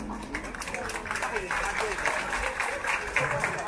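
Audience applause fills a Chinese New Year ceremony in Mauritius, a steady wash of many hands clapping throughout, with voices and crowd noise layered over it.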